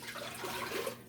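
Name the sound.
water being poured into chicken stock for wonton soup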